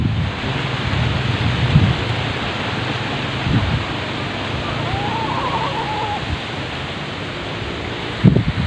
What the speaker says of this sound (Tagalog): kailan pa malakas ang hangin dito